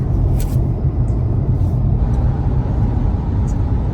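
Tesla Cybertruck CyberBeast driving along twisty roads, heard from inside as a loud, steady low road rumble and tire drone with a few faint ticks, no voices.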